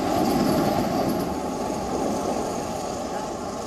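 A Mumbai local train runs past on tracks beside a small wind turbine, a loud continuous rumble and rush of wheels and air that slowly eases off.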